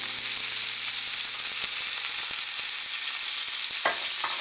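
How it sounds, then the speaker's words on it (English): A hot pan deglazed with white wine after frying fish, giving a loud, dense, continuous hiss of sizzling with a couple of sharp clinks near the end. "I'm just going to use a little bit of white wine here to deglaze the pan."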